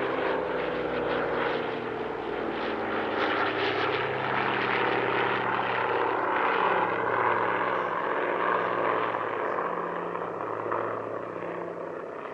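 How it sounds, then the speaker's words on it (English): The Flying Bulls' Douglas DC-6B piston airliner drones past at an airshow, a steady, loud multi-propeller roar with a throbbing beat that swells and fades slightly as it passes. "Arguably the headliner of the show was the Flying Bull's DC-6B."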